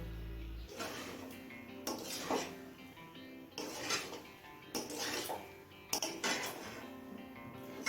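Cooked pea pulao being gently stirred in a pot, a utensil scraping and clinking against the metal in repeated strokes, close and moderately loud, with no talking.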